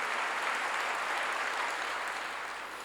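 A church congregation bursts into sustained applause, a dense, steady wash of many hands clapping together that fades slightly toward the end, with no voices standing out.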